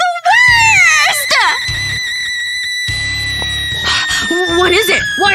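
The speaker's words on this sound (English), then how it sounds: "Why are you screaming?" A person screams at night in an animated scene, with long, loud, wavering shrill cries up close, broken by brief pauses and layered over background music.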